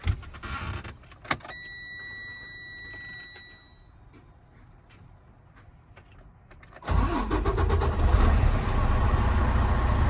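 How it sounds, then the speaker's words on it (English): A truck's diesel engine cranks and catches at a driving-test air brake check, settling into a loud, steady idle after several seconds of quiet cab noise with brief clicks and chimes beforehand. "Going to start the truck."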